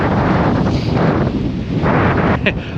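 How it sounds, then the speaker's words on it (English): Steady, loud wind buffeting a microphone, a broad rushing roar that persists throughout with no breaks, at Red Bluff, Quobba, Western Australia. "it's bloody windy"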